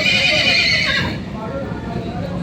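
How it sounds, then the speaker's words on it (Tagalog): A horse whinnies loudly at the start at a livestock auction market, its high cry fading after a second, with hoof clops and background chatter underneath. "Ayan ang mga kabayo."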